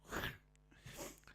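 A quiet, single sneeze bursts out, followed by a softer breathy catch, faint and isolated with no talking.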